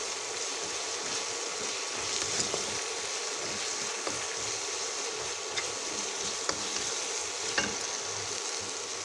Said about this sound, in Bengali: এবার মশলাটা ভাজা ভাজা করে নেব